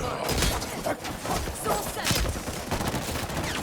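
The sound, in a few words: gunfire in the video game Highguard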